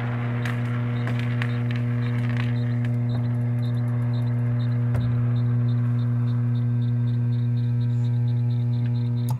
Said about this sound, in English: the motor on the piece makes noise